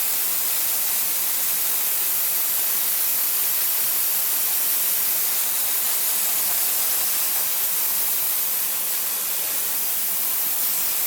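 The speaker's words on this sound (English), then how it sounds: "I dumped some more in the airbrush. Yeah, I think it's working better." Airbrush spraying thickened primer onto a Bandai 1:100 Macross Missile Phalanx model kit, a continuous close, even hiss of air and paint mist holding steady throughout with no talk.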